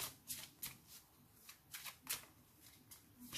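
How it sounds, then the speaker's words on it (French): Cards being shuffled and drawn for a tarot-style reading, soft papery riffles and slaps in short bursts, close and fairly quiet with no voice. "Je tire une dernière carte sur la boussole."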